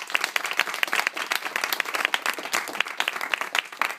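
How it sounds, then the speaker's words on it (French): An audience breaks into lively applause, dense and continuous clapping from a modest crowd, close and steady for several seconds. "Un applaudissement pour elle, s'il vous plaît."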